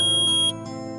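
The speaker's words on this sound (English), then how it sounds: "Beep." A single sharp, high electronic phone beep from the Phoenix Wright video game lasts about half a second over steady, sustained background music, then cuts off while the music continues.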